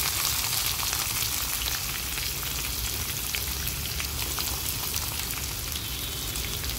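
Mustard seeds, cumin and chopped onions fry in hot oil in a pan while cooking poha upma, a steady close sizzle and crackle with faint stirring, running continuously without any voices.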